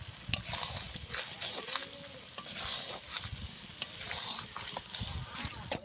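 Ash gourd morabba in thick syrup is stirred continuously off the heat, producing a soft sticky scraping and bubbling texture with a few sharp spoon clicks against the pan.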